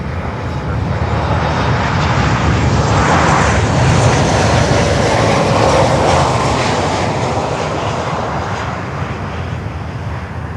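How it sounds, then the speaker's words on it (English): Loud, steady jet roar of an American Airlines Boeing 737 MAX 8 from Mexico City at Miami, holding strong and broad for the whole stretch with a slight fade near the end, no talk over it. "The next one is another American Airlines from Mexico City, 737 MAX 8."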